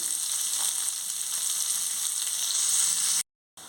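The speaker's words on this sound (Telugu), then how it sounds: "పెద్ద సైజు ఆనియన్ రెండు తీసుకున్నాను అవి చిన్న చిన్న ముక్కలుగా వేయించుకోవాలి" Two large onions chopped into small pieces frying in hot oil with cumin seeds, a steady bright close sizzle with light stirring that cuts off briefly near the end.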